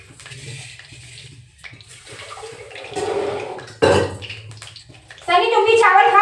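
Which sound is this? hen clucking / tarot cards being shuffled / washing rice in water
washing rice in water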